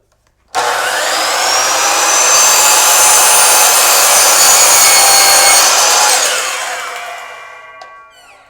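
A power saw cuts an angle through a clamped wooden frame piece, one continuous loud, whining cut that starts abruptly, holds steady for several seconds, then winds down as the blade spins to a stop.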